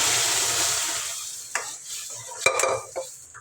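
Cooked dal is tipped into sautéed onions in a pan and stirred, with a soft sizzle fading under occasional sharp scrapes and knocks of the spoon against the pan.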